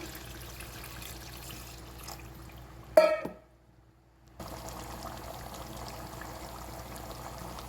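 Water poured into a pot of beef that has been fried down with cardamom, cinnamon and cloves: a single short, loud splash and gush that quickly dies away, then a moment of near silence before a steady low background returns.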